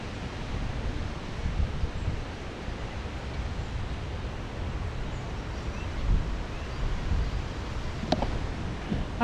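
Strong wind roars steadily through trees in a hollow during a storm, a continuous broad rushing with gusty swells, heavy buffeting low rumble and no talking.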